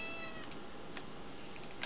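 A cat in the colony game RimWorld lets out a few faint, short meows over steady background game noise.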